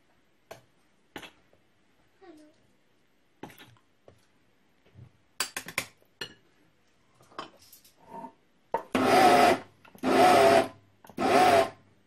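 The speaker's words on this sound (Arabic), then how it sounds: "انا دابا طحنت هذاك اللوز ديالي مع القرفه مع السكر" An electric grinder whirs through almonds with cinnamon and sugar for small chicken pastillas, in three loud short bursts near the end, after scattered knocks and handling noises.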